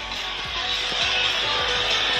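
A demolition derby rally game playing on a tablet gives off a steady hissy engine roar with repeated low thumps and crunches, all faint and compressed through small speakers.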